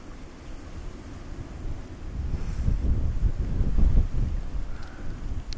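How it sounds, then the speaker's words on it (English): Strong wind buffeting the microphone outdoors beside a Flymo L47 two-stroke lawnmower, a low rumbling roar that swells in gusts and stays loud throughout, with no talk. "Really is windy."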